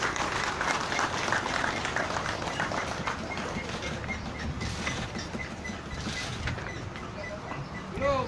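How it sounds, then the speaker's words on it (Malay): A crowd claps steadily and fairly close at an outdoor political feast held by PPBM and Pakatan Harapan in Kampung Bertam Ulu, Melaka. Mixed chatter runs underneath, and the applause fades slightly toward the end. "kita berikan tepukan yang paling gemuruh untuk Datuk Seri Mukris Tun Mahathir Mohamad"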